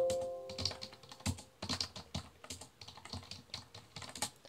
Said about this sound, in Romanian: ia și aici se aud tastele